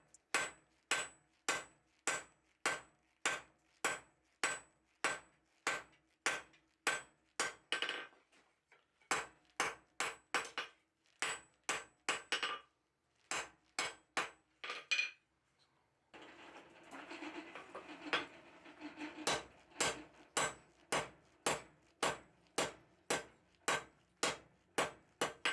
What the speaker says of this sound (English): So I can start forging out a lot of that mass in the middle